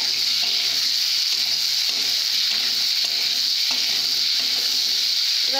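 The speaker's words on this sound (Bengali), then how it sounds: "এভাবে ভালো করে কষে নেব" Puti fish curry sautéing in a pan, a loud, constant sizzle close by with rhythmic scraping strokes of a spatula stirring roughly every half second.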